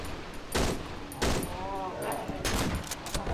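Gunfire in the horror game Cry of Fear: several sharp, loud shots in quick bursts spaced over a few seconds, with voices talking between them.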